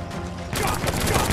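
Enemy gunfire in the Samurai Jack: Battle Through Time video game bursts out abruptly as a dense, loud rattle of rapid shots after a brief quieter moment.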